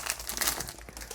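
Clear plastic wrapping on a Square-2 puzzle cube crinkles and rustles as it is handled, a close, continuous, crackling burst lasting about a second.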